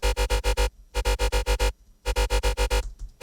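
A Serum synthesizer tone with a rich wavetable texture, its level gated by an LFO, pulses in rapid, even on-off bursts, grouped in three runs separated by short gaps, loud and close.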